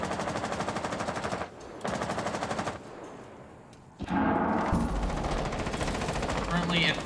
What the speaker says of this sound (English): That sounds like the P90 that did that.